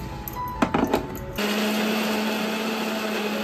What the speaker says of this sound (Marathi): इतक्या मात्रामध्ये आपल्याला व्यवस्थित बंद करून आपल्याला ते मिक्सर मध्ये व्यवस्थित वाटून घ्यायचंय।